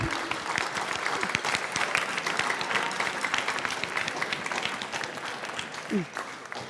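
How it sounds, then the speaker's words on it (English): Students at an all-county band concert applaud their parents, a dense, loud wash of clapping from a large crowd that holds steady throughout, with scattered voices underneath. "So kids, I'd like you to give your parents a round of applause as well."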